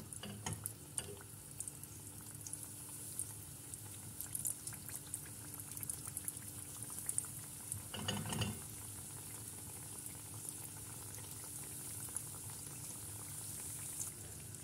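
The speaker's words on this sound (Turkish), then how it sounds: "Sıcak yağ içerisine böreklerimizi bir bir bırakıyoruz." Börek pastries fry in hot oil with a steady, even sizzle and crackle throughout, one brief louder burst of spitting partway through, close and moderately quiet with no talk.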